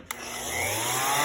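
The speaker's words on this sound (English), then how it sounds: "we are all done sanding with the 60 grit" A power sander with 60-grit paper spins up on a wooden island countertop, a click followed by a rising whirring drone that climbs in pitch and holds steady nearby, with no voices.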